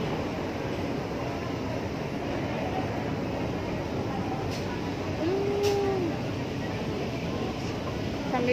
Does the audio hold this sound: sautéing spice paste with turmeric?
no